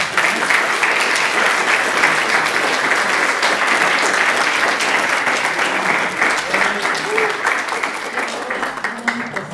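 Sustained, dense applause from a conference audience fills the space loudly for several seconds, then thins slightly toward the end.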